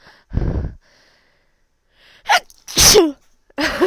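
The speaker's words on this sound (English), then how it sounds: "I'm gonna sneeze!" A person with a cold lets out a loud, close sneeze after a few breathy gasps and snorts, followed by a short vocal exclamation.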